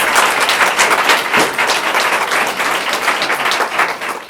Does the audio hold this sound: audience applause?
yes